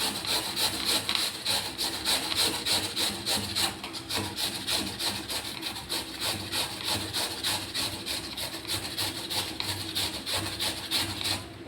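Continuous rubbing scrape of an object being rubbed so its fibres come loose, a steady close dry friction with a faint rhythmic pulse running evenly throughout, no talking.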